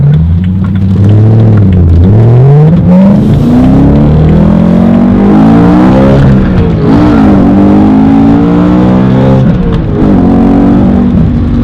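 A car engine revs loud and close, climbing and falling in pitch through several repeated throttle blips and sustained pulls, with a deep rumble underneath.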